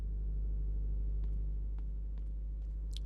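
A car engine idles steadily just after starting, a low, even rumble held close and unbroken, with a few faint clicks and small noises on top.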